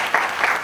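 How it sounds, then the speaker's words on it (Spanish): Audience applause at a UFO conference event in Casasola de Arión, steady clapping from a crowd filling the short stretch with dense, even patter. "se merece un fuerte aplauso"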